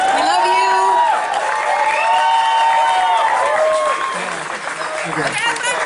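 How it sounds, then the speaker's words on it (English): A crowd at Halloween Horror Nights 26 claps and cheers loudly and steadily, with whoops and shouting voices rising over the applause throughout. "Let's give another big round of applause, ladies and gentlemen."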